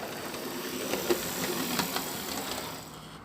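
A model train locomotive motor ticks over slowly on the track, a steady whirring hum with soft regular clicks, close and moderately loud before easing off at the end, with no voices.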